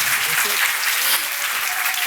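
Loud, close applause from a conference audience after an acoustics lecture on musical instruments, a dense steady patter of many hands lasting about two seconds, with a few faint voices beneath.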